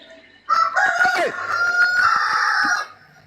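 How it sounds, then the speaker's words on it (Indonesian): A rooster crows loudly and close by in one long, sustained call lasting about two seconds, standing alone without talk. "Ayam yang jawab."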